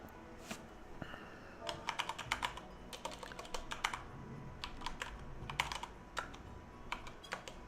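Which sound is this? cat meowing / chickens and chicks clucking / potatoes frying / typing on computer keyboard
typing on computer keyboard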